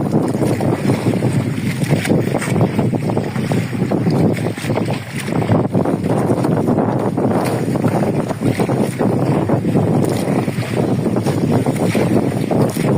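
Waves washing around a fishing boat at sea in strong wind, a steady loud churning of water and engine rumble with gusting wind noise throughout, without voices.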